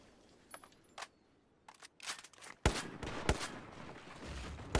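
XM25 airburst rounds strike a concrete wall in Battlefield 4: a few sharp, scattered blasts that grow louder and denser, ending in a sustained roar of debris and explosions.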